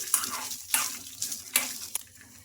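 Peanuts, green chillies and garlic cloves fry in oil in a pan, a soft steady sizzle broken by several sharp scrapes and clinks as they are stirred, close and moderately loud.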